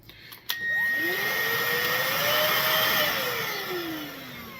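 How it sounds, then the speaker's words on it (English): A handheld vacuum cleaner shaped like a coffee maker starts with a click and whirs steadily, its pitch sliding up then gradually falling, loud and close with no talking. "it's a vacuum cleaner, but it looks like a coffee maker"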